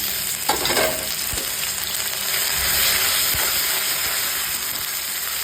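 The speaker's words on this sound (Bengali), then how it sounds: "এইবার আমি তেজপাতাটা দিয়ে দিলাম, সাদা জিরেটা দিয়ে দিলাম, শুকনো লঙ্কাটা আমি একটু ছিঁড়ে দিয়ে দিলাম" Bay leaf, cumin seeds and torn dried red chili sizzling in hot oil for moong dal khichuri, a close crackling hiss with an early burst and a few knocks of a utensil, no speech.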